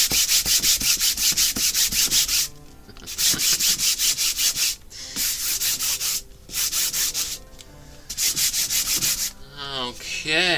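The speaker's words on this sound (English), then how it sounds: "I put some gesso on it, I just brush it on, and this is some 220 grit sandpaper" Gesso-coated surface being sanded by hand with 220 grit sandpaper, loud rhythmic back-and-forth rasping strokes in fast bursts separated by brief pauses, close and alone.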